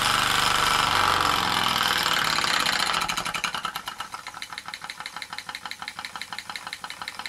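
A Bowman E101 engine runs with its throttle opened fully: a steady loud hiss at first, then a fast, even train of chuffing beats, heard close and alone.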